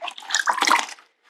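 Clean water sloshed with a sponge while stripping an old finish off furniture, a brief close splashy wash lasting about a second.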